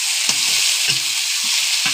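Potatoes fry with cumin paste, dried chili paste and bay leaf in a pot over a clay stove, a steady close sizzle broken by several scraping stirs.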